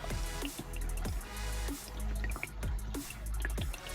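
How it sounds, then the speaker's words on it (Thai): Water drains out through the drain valve and hose of an LG washing machine, a steady trickle with repeated dripping pulses heard up close. "ดึงลูกชักที่เป็น ลูกยางครับที่เป็นสปริงดึง เพื่อให้น้ำไหลออกนะครับ ตามท่อ"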